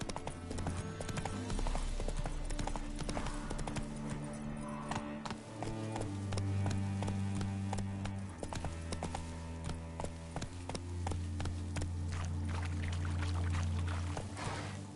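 Roach, the horse in The Witcher 3, gallops with rapid, rhythmic clip-clop hoofbeats that run steadily and close throughout, layered over game music and ambience.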